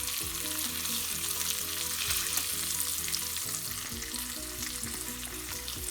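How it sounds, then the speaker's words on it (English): Salmon fillet searing flesh side down in a hot pan gives a loud, dense, continuous sizzle and crackle, close up and steady throughout, with no talking. "we're getting the salmon flesh side down into the pan"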